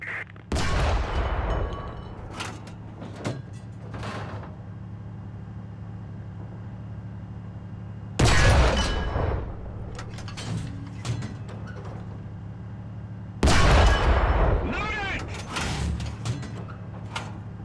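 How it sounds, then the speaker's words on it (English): Three heavy tank cannon shots go off in War Thunder, each one a loud blast with a rumbling tail and reload clanks. They come several seconds apart over a low, steady engine drone. "Keep firing at the tank's weak spots to destroy internal modules."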